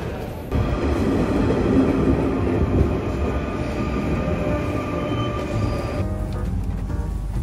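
Rumbling interior of a moving train in Copenhagen, Denmark, continuous wheel and track noise with a steady roar, slightly easing toward the end.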